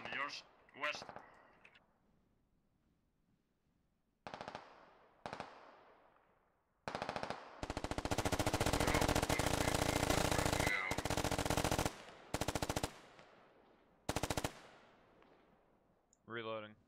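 Bursts of automatic gunfire with tracers during a nighttime battle in Squad, loud separate volleys, one long sustained stretch among shorter bursts and quiet gaps.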